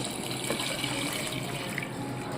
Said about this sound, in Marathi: ह्याच्यामध्ये मी आता गरम पाणी ओतून घेते शिजण्यासाठी